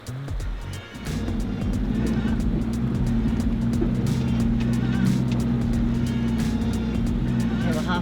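A Toyota Hilux 4x4 pushes through a river crossing with a constant loud engine rumble and broadband water rush, with frequent splashing clicks, continuous for several seconds.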